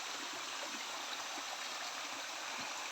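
Water of the Tak Abek waterfall rushing and splashing over rocks, a steady broadband wash heard alone at moderate distance, with faint gurgling ripples throughout.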